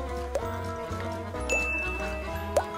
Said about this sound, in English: The bubbling casino.